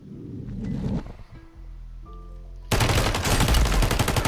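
Gunfire from Warzone, first muffled shots and rustling, then a tonal in-game sound with sustained notes, followed by a loud, dense barrage of rapid shots that runs to the end.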